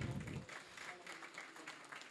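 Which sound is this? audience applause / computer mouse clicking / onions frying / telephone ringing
audience applause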